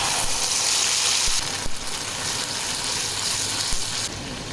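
Tomato puree hits hot spices frying in oil for Bengali potato dum, producing a loud, dense, continuous sizzle close up with a slight shift in tone partway through.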